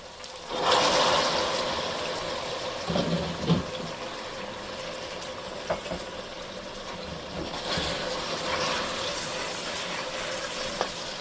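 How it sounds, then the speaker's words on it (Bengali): Hot water poured into a pan of sautéed ginger and garlic paste gives a steady splashing pour followed by a bubbling simmer, with a few light clinks of utensils and no talk. "একটু গরম পানি দিয়ে দেব।"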